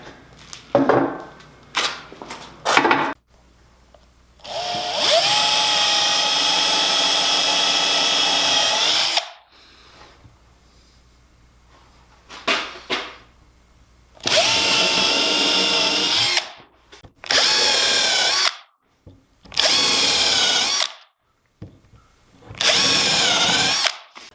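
A power drill drives 2 3/4 inch screws through a workbench top in loud, high-pitched whirring bursts of a few seconds each, separated by short quiet gaps and light handling clicks.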